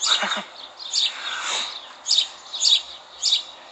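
Birds chirping outdoors on a sunny day: a series of bright, short tweets and calls repeating at a fairly even pace, moderately close, with a quiet background and no talking.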